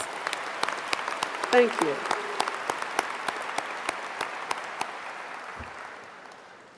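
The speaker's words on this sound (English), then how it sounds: "another round of applause" Applause at a Georgia Gwinnett College spring commencement, a large audience clapping steadily with sharp individual claps standing out, gradually thinning and fading toward the end; a voice speaks briefly over it.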